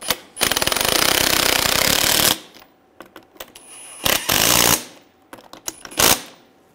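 A power tool with a 17mm socket tightens nuts while installing a leveling kit on a 2011-2018 Ram 1500, rattling loudly in a long two-second burst, then several shorter bursts, close with no talking.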